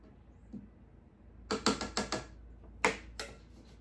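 Stand mixer bowl being twisted and tightened back into place, a quick series of sharp mechanical clicks followed by two more after a short pause, close and fairly quiet.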